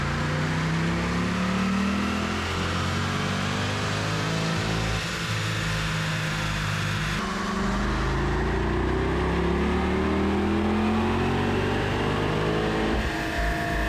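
A 2021 Chevrolet Corvette C8 on its stock exhaust revs and accelerates in a loud, sustained roar, the pitch climbing and shifting through gears over about fourteen seconds, with no talk.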